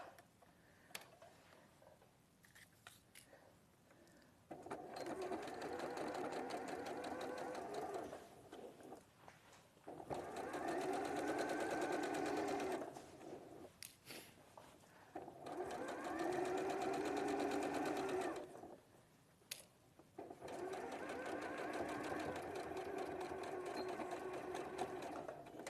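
A sewing machine stitches in several bursts of a few seconds each, a steady rapid mechanical whirr and ticking, separated by short pauses and quiet handling sounds.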